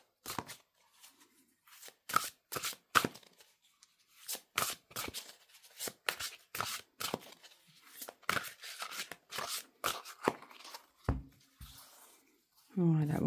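Oversized oracle cards are shuffled by hand in quick bursts of riffling and slapping, close and crisp, with short pauses between rounds.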